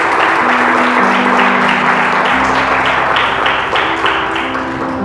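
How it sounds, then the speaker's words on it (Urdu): A church congregation claps loudly and steadily, dense applause filling the whole stretch with no break. "زوردار تالیاں خدا کے جلال کے لیے۔"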